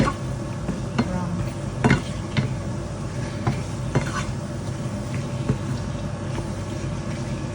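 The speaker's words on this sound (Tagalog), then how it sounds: "fry them with just like this, and let it brown, fry for a little bit brown." Chicken fries and browns in a pan with ginger, a steady close sizzle running throughout, broken by occasional sharp clinks of a utensil stirring against the pan.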